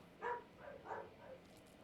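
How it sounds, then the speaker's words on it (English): Dogs barking somewhere in the room, a few muffled, fairly faint barks spaced across the moment, heard alone with no talk over them. "The dogs are losing their minds."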